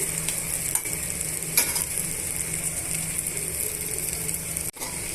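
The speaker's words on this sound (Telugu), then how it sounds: "ఇప్పుడు ఇందులోనే మనము సన్నగా తరిగిన ఉల్లిపాయలు పచ్చిమిరపకాయలు యాడ్ చేస్తున్నామండి" Chopped onions and green chillies sizzle loudly with softened tomatoes in a pan, a continuous close frying hiss with stirring scrapes and a brief break near the end.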